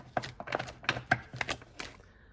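Thick deck of tarot-style cards being shuffled by hand, a quick series of crisp riffling clicks and slaps in close, uneven bursts.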